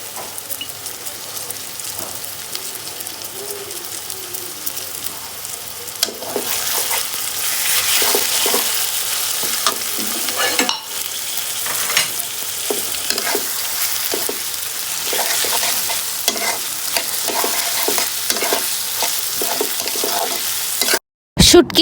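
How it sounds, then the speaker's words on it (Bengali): Dried bamboo-leaf shutki fish fries with onion and garlic in a pan, a steady oily sizzle broken by repeated scraping stirs that grow busier midway, ending with a brief clatter. "পেঁয়াজ আর রসুন হালকা একটু ভাজা হয়ে যাওয়ার পর শুটকিগুলো দিয়ে দিব।"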